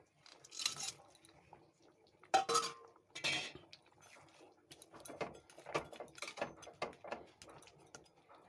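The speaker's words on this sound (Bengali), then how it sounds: "দিয়ে দেবো ভাজা মাছ," Fried koi fish goes into a cooking pot with vegetables and spices: a run of close metal clinks, scrapes and knocks from utensils and the pot, some sharp and bright, with light stirring sounds between them.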